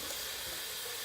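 Hot water runs steadily from a sink tap at a bathroom sink before shaving, a continuous close, even broadband hiss with no talking.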